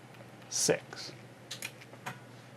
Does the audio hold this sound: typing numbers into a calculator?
yes